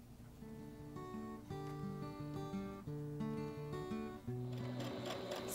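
A domestic sewing machine hums steadily as it stitches fabric apron ties along a long side. The motor whirs in even stretches with brief stops and restarts, close and alone.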